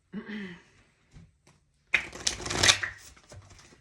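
A deck of Kali Oracle cards being shuffled in one quick, crisp riffling burst close up, after a short spoken phrase and a couple of soft taps.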